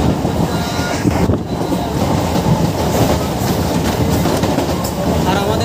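A Bangaon to Ranaghat local train carrying few passengers, heard from inside as a loud, steady rumble with rhythmic clatter of wheels on the rails, and a voice faintly present under the noise.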